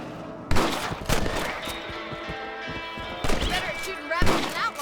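Rifle gunfire in the video game Red Dead Redemption rings out in loud repeated bursts of sharp cracks with echoing tails, separated by short lulls as a shootout plays out.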